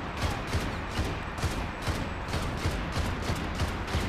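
Shooter gameplay in Max Payne 3 at a police station: a sustained, dense volley of rapid gunshots with regular bursting peaks, loud and continuous for a few seconds, no voices.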